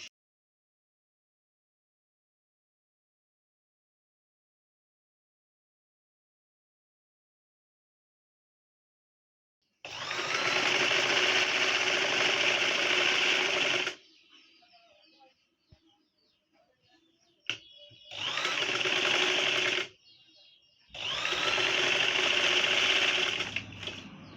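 A sewing machine stitches baby frock fabric in three loud, close bursts of rapid, steady whirring and needle chatter, separated by quiet pauses with light handling clicks after a long silent opening.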